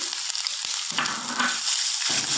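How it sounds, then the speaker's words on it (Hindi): Ginger paste fries in cumin with a bright close sizzle that swells as it is stirred, punctuated by scraping strokes of a spoon in the pan, no speech. "अब ज़ीरे में मैं 1 चम्मच जो है वो अदरक पेस्ट शामिल कर रही हूँ।"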